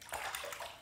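A Gillette razor is rinsed under running water, a brief close splashing gush lasting under a second.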